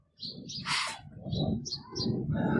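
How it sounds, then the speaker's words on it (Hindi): Birds chirping in short bursts nearby, with soft cooing of Kasuri pigeons and low background murmur. "ये कसूरी कबूतर हैं"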